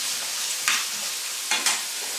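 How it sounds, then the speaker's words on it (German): Onions, summer vegetables and garlic fry in a pan with a steady, close sizzle, broken by two brief bursts of stirring. "lasst die Zwiebeln kurz anbraten"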